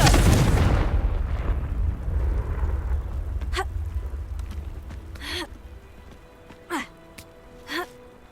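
A Confringo fire spell from Hogwarts Legacy goes off as one loud, close blast that rolls away over a few seconds, followed by several shorter, quieter magical bursts at intervals.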